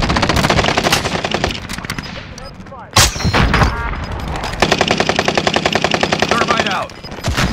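Gunfire in Call of Duty: Modern Warfare, with loud repeated automatic bursts and a sharp single blast, filling most of the stretch with heavy battle noise.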